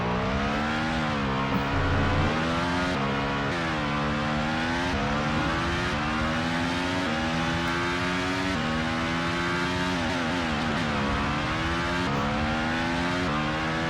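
A racing car engine in the FX racing video game drones loudly and continuously, its pitch climbing and dropping through repeated gear shifts and revs.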